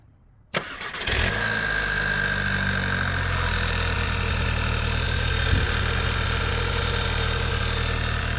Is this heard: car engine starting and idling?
yes